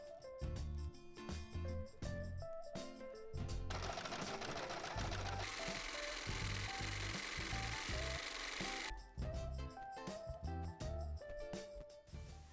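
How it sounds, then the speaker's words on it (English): A serger overlocking the edges of fraying fabric for a beach bag, a loud close mechanical whir that runs steadily for several seconds, with clicking and rattling handling noises before and after. "And serge it because this material frays a lot."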